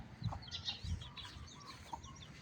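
Chickens, a hen and young chicks, clucking softly in a yard at morning feeding time, with several short clucks and faint peeps scattered over quiet background.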